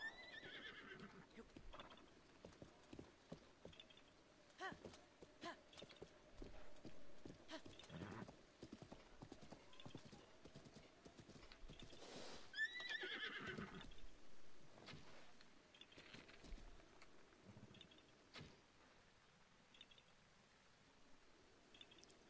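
In the video game Zelda: Breath of the Wild, a horse whinnies now and then while hooves clip-clop steadily. The sounds are fairly faint and there is no clear talk.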